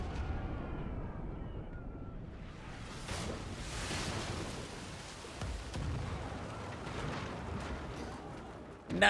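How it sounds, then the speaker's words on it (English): Ship cannon fire and an exploding enemy ship in the video game Pillars of Eternity II: Deadfire, with deep booms and crackling blasts over a rumbling sea-like wash, fairly distant and muffled. "the enemy ship abruptly explodes with a deafening boom"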